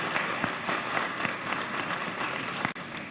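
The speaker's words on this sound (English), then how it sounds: "Let's give them a huge round of applause" A conference audience at a community engagement forum gives a big round of applause, with dense, steady clapping filling the room and a brief dip near the end.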